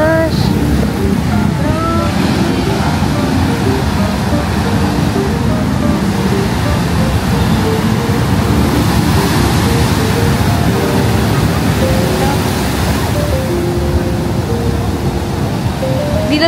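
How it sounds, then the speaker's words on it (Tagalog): Strong surf rolls and crashes continuously at Kuta Beach, Bali, a loud, wind-buffeted wash of breaking waves, with someone speaking intermittently over the roar. "Lakas ng alon."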